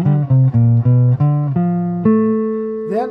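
The second measure of a jazz lick is played as a quick run of distinct, harmonically rich notes, each struck in turn, ending on a longer held tone with a slight pitch bend.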